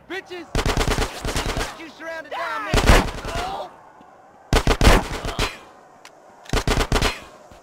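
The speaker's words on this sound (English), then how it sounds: "Police are shooting at me too?" Police gunfire in the video game GTA San Andreas: loud bursts of rapid automatic fire in several clusters, separated by short gaps with game sound in between.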